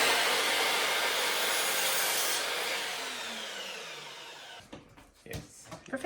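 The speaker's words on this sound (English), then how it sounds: "we have to cut the trim just a little bit to make sure they are perfect" A power saw cuts about 8 millimeters off wooden floor trim during a home renovation, a loud hissing whine that winds down as the blade slows, followed by a few knocks and handling sounds.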